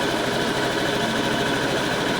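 A Honda Vario 110 scooter engine runs steadily up close, a fast, even mechanical buzz with a rapid pulsing beat and no pauses, loud and alone without any talk.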